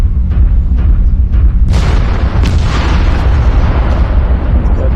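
Artillery strike explosions in a mech warfare video game: faint thuds give way to a loud booming blast, followed by heavy, sustained rumbling and crackling debris that fills the rest of the moment.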